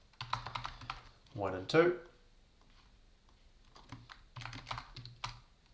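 Bursts of quick computer keyboard typing come in clusters at the start and end, close and crisp, with someone speaking briefly in between.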